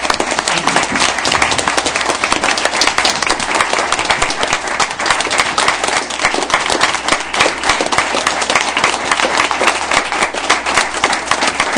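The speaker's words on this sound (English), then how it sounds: "So big round of applause for Carol Harvey." Sustained, dense applause from a large crowd, steady and loud throughout with no pauses.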